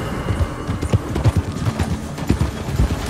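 Wild horses galloping in Red Dead Redemption 2, with irregular clusters of hoofbeats thudding close by, some heavier than others, over a low ambient game backdrop.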